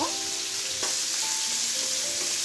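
Ginger garlic paste fries in a pan for a hilsa fish curry with potato and cauliflower, giving an even, close sizzling hiss throughout, with a faint knock of the utensil partway in.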